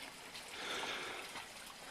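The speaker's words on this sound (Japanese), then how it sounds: "川の音が聞こえますね。" Soft, steady rushing of river water flowing below a forest park campsite in Hiroshima, a faint continuous hiss heard from a distance with no voices over it.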